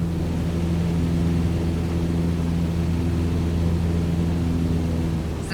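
A light aircraft engine in Microsoft Flight Simulator 2020 drones steadily with a low harmonic hum and broadband airflow noise, continuous and loud throughout with no speech.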